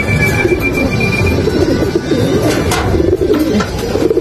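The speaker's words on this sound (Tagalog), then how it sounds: "Parang itong ibon natin pa sa bubong." A bird on a house roof coos like a pigeon or dove, over a steady, busy background rumble that sounds like a vehicle or train.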